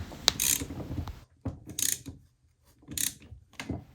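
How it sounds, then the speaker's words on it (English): Ratchet with a castle socket tightening the castle nut on a Honda SS100/SS180 V-twin clutch, giving three short bursts of bright, rapid clicking separated by pauses, close and clear with faint mechanical rattles between strokes. "using a special castle socket on my ratchet"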